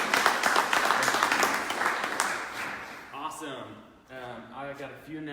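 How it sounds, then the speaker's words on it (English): A crowd applauds for about three seconds, the clapping fading out as a voice begins speaking over the last of it. "So let's give another round of applause"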